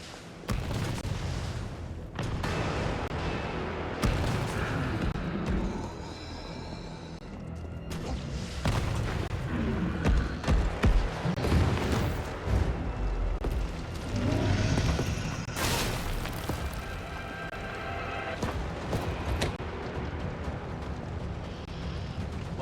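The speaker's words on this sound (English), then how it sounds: "Rocket launcher? Really?" Rocket launcher blasts and heavy explosions in the Resident Evil 3 Remake Nemesis fight, loud booming impacts and rumbling debris in repeated bursts, with gunfire crackle between them and no voices.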